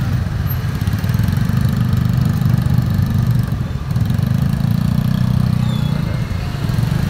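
An automatic motor scooter idles loudly and close by at a market, a steady low putter that dips briefly midway and then resumes.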